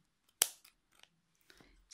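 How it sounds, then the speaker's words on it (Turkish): A single crisp snip of scissors cutting yarn after crochet work, close and sharp, followed by a few faint small clicks and rustles in near silence. "makasımla kesiyorum"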